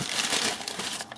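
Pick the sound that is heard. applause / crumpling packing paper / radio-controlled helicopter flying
crumpling packing paper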